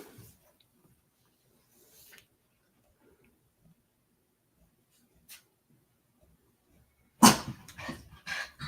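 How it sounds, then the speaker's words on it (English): Household dogs bark in a sudden loud burst near the end, after a long stretch of near silence with only faint scattered noises. "Oh yeah, excuse my dogs."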